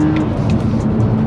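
BMW Z4 Coupe track car engine revving hard through a gear change, a loud, steady close-up engine drone filling the whole moment with no talk over it.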